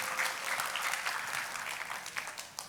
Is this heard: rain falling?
no